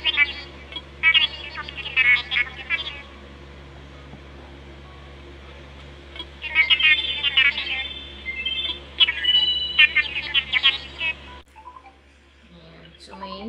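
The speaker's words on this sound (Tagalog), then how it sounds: "So may tumatawag sa akin." An incoming phone call rings inside Animal Crossing New Horizons, a chirpy, repeating electronic jingle in several bursts over a steady low hum, cutting off near the end before a few quieter game tones.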